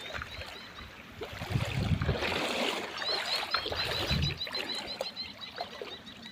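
Rainwater runoff after two hours of heavy rain flows steadily through a farm field channel where buffaloes rest, a continuous rushing wash with birds chirping faintly in the background.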